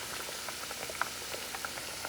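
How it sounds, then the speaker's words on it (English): Plantain and pork for Puerto Rican mofongo frying in oil in a pan at about medium heat, a steady soft sizzle with small crackling pops, close and alone. "you start frying them"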